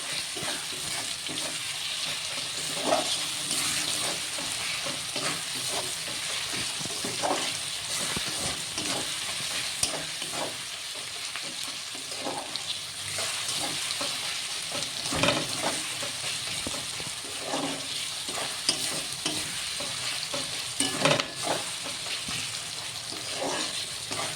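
Onions frying in oil for a chicken curry, stirred now and then: a steady broadband sizzle with soft scraping strokes of a spoon against the pan every few seconds, close and continuous, no talking.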